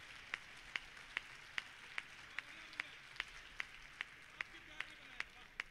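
Sparse, evenly spaced single claps, about a dozen sharp hand slaps at a steady rhythm, heard faintly over quiet room tone at a Hindi poetry recital in Indore honouring poet Aman Akshar.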